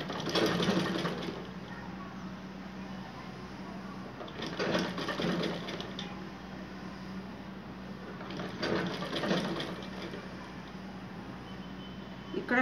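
A sewing machine stitching trousers runs in steady whirring stretches with a rapid mechanical needle rhythm, pausing and restarting several times, close and moderately loud, with faint talk in the background.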